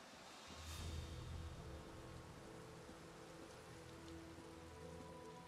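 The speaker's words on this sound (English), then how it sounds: "It is raining." Steady rain falls in the Elder Scrolls Online game world, a soft, even hiss of drops pattering on surfaces with a low rumble underneath, faint and continuous, with no talking.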